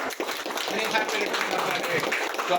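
Applause from a crowd at a politician's birthday celebration in Telugu-speaking India, a brief steady patter of clapping mixed under someone speaking over a loudspeaker.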